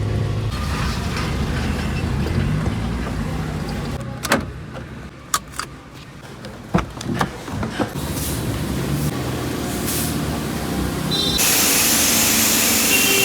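A vehicle is washed with a water spray at a roadside wash service, a steady broad hiss of jetting water running throughout with a few sharp clanks and knocks midway, growing louder and brighter near the end.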